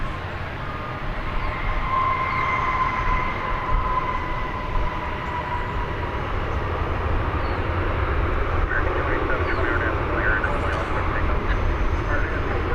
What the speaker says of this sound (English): here comes a flight from Tulsa, flight 2674, American Airlines, 737-800. I'm sure we can all recognize that sound by now.